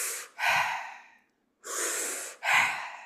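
Forceful breathing exercise: three loud, close, sharp breaths pushed out through the nose and mouth, with pauses between them and a longer silence before the last two, and no talking.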